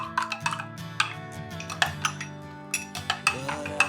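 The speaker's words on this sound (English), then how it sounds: "Make sure that you mix very well" A spoon clinks and scrapes rhythmically against a bowl while coffee and garlic are stirred together, with sharp metallic taps repeating close up and no talking.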